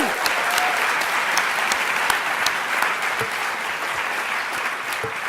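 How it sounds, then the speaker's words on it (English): A conference audience at a closing keynote applauds steadily, a dense wash of many hands clapping at even loudness for the whole stretch, with a few sharper individual claps standing out. "Let's do another round of applause"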